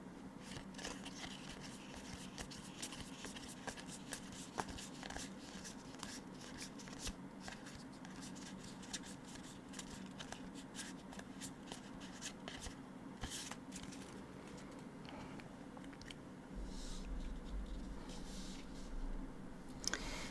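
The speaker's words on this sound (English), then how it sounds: "Plus, the shuffling sound is really nice." Yu-Gi-Oh! trading cards from a 25th Anniversary Rarity Collection being flipped and shuffled up close, a steady run of soft riffling and snapping card edges with no talking.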